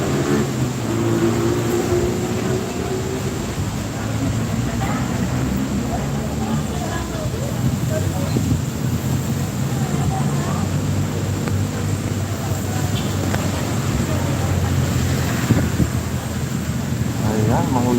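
A storm with steady wind and rain roars constantly close to the microphone, a dense wash of noise that continues without a break.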